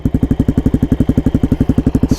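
A Suzuki DRZ400 motorcycle fitted with an aftermarket exhaust thumps close and loud in a fast, evenly spaced pulse, a steady single-cylinder beat without voices.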